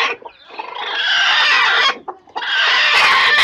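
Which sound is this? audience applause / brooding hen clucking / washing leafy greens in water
brooding hen clucking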